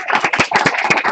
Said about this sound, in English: can we give Piet a warm round of applause